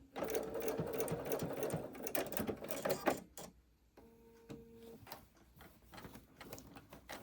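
A sewing machine stitching through a thick quilt block, its fast mechanical whirring running in bursts with short stops, close and fairly quiet, no talk.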